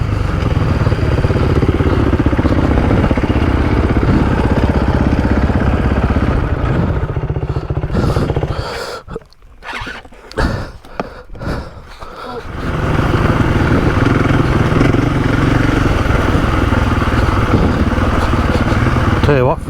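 A 2024 KTM 500 EXC-F dirt bike engine drones loudly and steadily while riding, dropping away briefly in the middle before returning at full strength.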